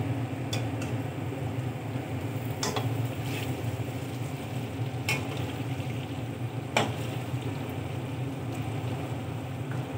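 Palm fruit fritters (gulgula) fry in hot oil, giving a steady close sizzle with occasional sharp clicks of a utensil against the pan, and no talk.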